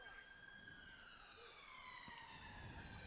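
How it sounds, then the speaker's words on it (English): An ambulance siren wails in long rising and falling tones, faint and distant, drifting away with background crowd murmur at a blind football match. "Wait for the siren to move away."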